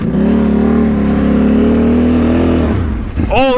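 A giant four-wheeler's engine revs hard and steadily in a deep mud hole, a loud, sustained near roar that drops off toward the end before a brief higher whine.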